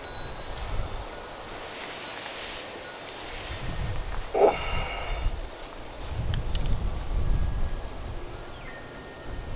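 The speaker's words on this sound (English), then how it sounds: "I can feel that breeze moving me around." Winter breeze blowing across an outdoor archery range in the southeast, a steady low rumble of wind buffeting the microphone with gusts rising and falling.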